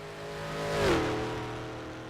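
A rally car nicknamed Scooby comes down a mountain road close to the banks at the Isle of Man time trial, its engine note rising as it nears, peaking as it passes close by, then fading.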